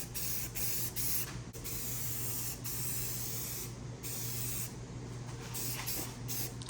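Aerosol spray can coating a Nissan Hardbody truck part for rust prevention, a near, steady hiss in several bursts separated by brief pauses, with a fan humming underneath.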